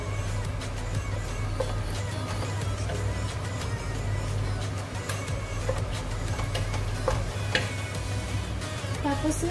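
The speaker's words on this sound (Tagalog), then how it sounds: "Ilalagay ko na ang gata." Coconut milk poured into a simmering pot of laksa sets off a steady sizzle and bubbling, with occasional stirring clinks against the pot, close and moderately loud.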